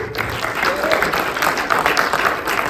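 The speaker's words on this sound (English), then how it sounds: "this person right here would like his own round of applause" Film Q&A audience in a Sydney Newtown cinema breaking into applause for the writer and director, dense sustained clapping from a full crowd, loud and continuous for the whole moment.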